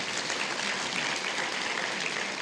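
Church congregation applauding during a sermon, a brief continuous burst of clapping from many hands, moderately distant and even in level.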